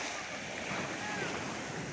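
Calm sea waves give a steady, soft wash of surf, with light wind noise on the microphone.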